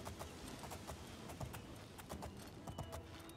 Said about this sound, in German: Das Pferd. Hört sich immer so böse an, ey.